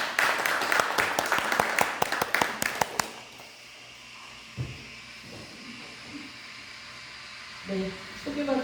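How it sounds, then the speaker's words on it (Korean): Applause from an audience at a talk on a novel about Incheon labour, dense clapping for about three seconds with a few sharp claps, then cutting off into a quiet room with faint shuffling and a brief voice. "박수로 맞이해 주시기 바랍니다"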